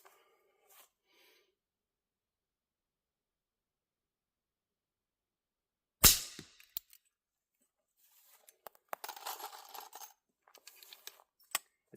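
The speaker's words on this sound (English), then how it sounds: "That's a very comfortable way to shoot" A single sharp, loud shot from a Thompson Contender .357 Magnum pistol cracks outdoors after a long quiet stretch, followed by softer clicks and handling noises.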